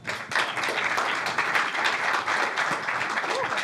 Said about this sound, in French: Je demande de l'applaudir bien fort, s'il vous plaît.